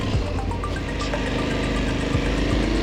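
Motorbike engine running steadily on a slippery trail, a continuous close rumbling drone with some rattling vibration and no break in the sound.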